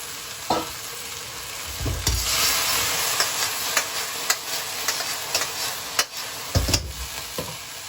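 Fried pork pieces stir-fried in a wok over high heat for guo bao rou, a steady sizzle with scraping spatula strokes and occasional clanks against the metal, loud and close, no talking.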